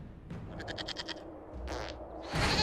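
A goat bleats in Dragon Age: Inquisition: a short, wavering cry followed by a second bleat, set against a quiet game ambience with a brief rustle at the end.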